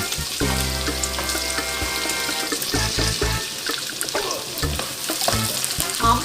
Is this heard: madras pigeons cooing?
no